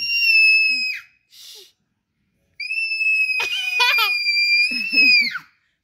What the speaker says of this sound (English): Screaming with a very high-pitched voice.